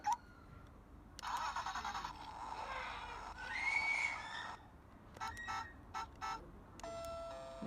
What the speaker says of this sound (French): La sonnette.